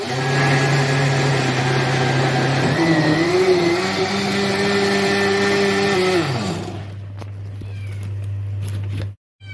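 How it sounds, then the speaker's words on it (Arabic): A blender blending strawberries whirs loudly and steadily for about six seconds, its motor pitch wavering as it runs, then cuts off, leaving a low hum. "حطينا الفراولة في الخلاط وهنضربها."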